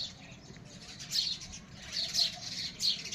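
Sparrow chirping at its nest, thin high chirps in a few short bursts, moderately near over a low background hum.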